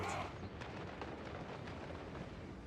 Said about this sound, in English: what are those mortars doing?